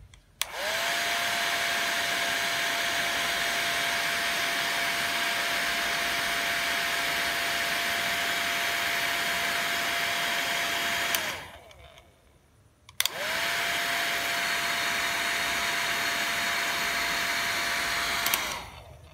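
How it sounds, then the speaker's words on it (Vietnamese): A hair dryer, measured with a multimeter for current draw, runs with a loud, steady whining roar for about eleven seconds, cuts off briefly into near silence, then starts again with the same constant drone until it clicks off. "khi cái máy sấy tóc này nó chạy"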